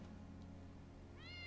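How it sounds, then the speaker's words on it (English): In Final Fantasy VII Remake, a cat gives one short, clear meow late in the clip, heard faintly over a low, steady game background hum. "That's Wedge's cat."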